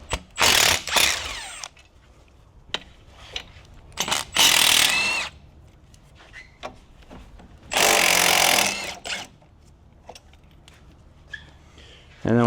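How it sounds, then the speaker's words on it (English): Hand tools loosening the 12 mm bolts that hold the brake caliper lines on a G35/G37 front suspension. Several loud bursts of rapid ratchet clicking are separated by quieter knocks and handling noises. "I'm going to undo these 12s that hold the caliper lines on"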